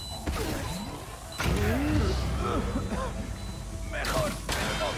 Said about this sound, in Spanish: Tienen pinta de mover los ventiladores